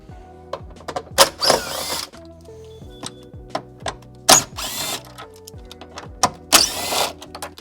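A power tool backs out the bolts holding the factory subwoofer in a Dodge Durango, running in three separate loud bursts with short ratcheting whirs, and quieter clicks and handling noises between them.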